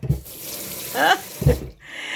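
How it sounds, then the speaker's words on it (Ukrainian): Water runs from a garden hose just cleared of a blockage, splashing in short bursts with a louder gush near the middle and a thin trickle in between, close by and without talk. "А тепер вода тече."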